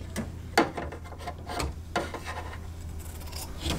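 Fabric for a vintage butterfly quilt being trimmed, giving a few soft rasping cuts and rubbing strokes at close range, with no talking.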